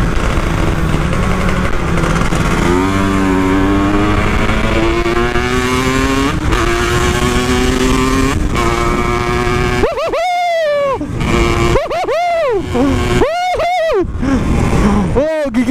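A Yamaha RX King motorcycle fitted with a Kawasaki Ninja 150 two-stroke engine drones loudly at steady speed, then snaps through several sharp, high revving bursts near the end, close and loud.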